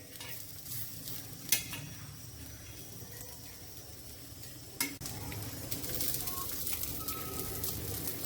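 Banana slices (kela phodi) frying gently in oil in a pan: a soft, quiet sizzle throughout, with a couple of sharp utensil clinks and some light stirring.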